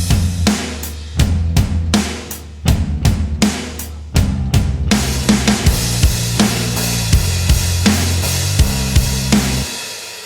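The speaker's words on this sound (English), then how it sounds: "So the drums and bass, they sound pretty massive together." Drums and bass from a rock mix: punchy kicks and snare hits at a steady rhythm over a heavy sustained bassline, loud and dense with no talk.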